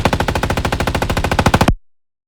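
Rapid, even burst of designed automatic gunfire for the video game Apex Legends, built with BOOM Library weapon sounds: about twenty loud, punchy shots in steady rhythm that stop abruptly and leave a short decaying tail.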